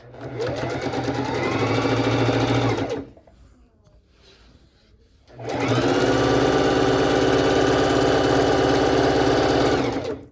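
A bernette sewing machine stitches a mid-century modern pillow in two long bursts of fast, steady running, loud and close, with a short quiet pause between them.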